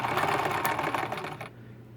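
A Necchi 3101 sewing machine stitches steadily at close range, a fast even mechanical chatter that runs for about a second and a half and then stops.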